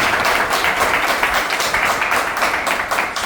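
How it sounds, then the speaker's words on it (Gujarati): A crowd of devotees at the Swaminarayan temple in Sattadhar, Ahmedabad, claps to welcome a swami. The applause is loud and sustained, with an even, rhythmic pulse throughout. "તો આપણે એક વખત સ્વામીને તાળીઓથી વધાવીએ."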